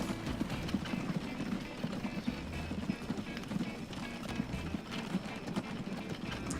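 Horses trotting in the transport simulation game Transport Fever, a steady, busy patter of clip-clop hoofbeats under a low, continuous ambient rumble.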